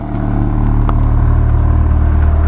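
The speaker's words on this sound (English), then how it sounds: "all the exhaust is coming out the back" A 1997 Mitsubishi Eclipse Spyder engine idles steadily and loudly up close, a deep continuous rumble with a faint rattle and no voices.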